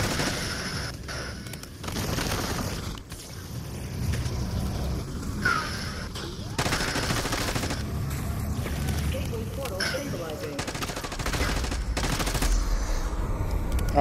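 Gunfire in a zombies video game set in Liberty Falls, with busy shots and bursts running through the clip under steady game noise and frequent talk from players.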